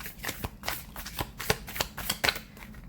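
Tarot cards get a short hand shuffle, a handful of close, papery riffles and taps in a loose rhythm, heard alone without speech.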